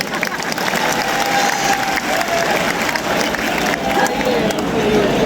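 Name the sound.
audience applause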